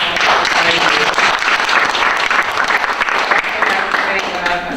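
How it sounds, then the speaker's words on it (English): An audience at a Miranda rights education session applauds Commander Huff: dense, steady clapping from a crowd, loud and continuous throughout. "Please let's give Commander Huff a round of applause."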